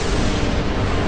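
An explosion in the video game Final Fantasy X sounds as a loud, rumbling blast that fills the whole second-long moment, with no voices.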